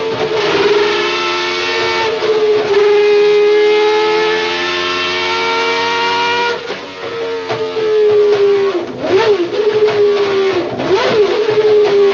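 A loud, close 1980s Renault Formula 1 racing engine holds a steady high-pitched rev near 12,000 RPM, then blips the throttle repeatedly in sharp rising and falling bursts.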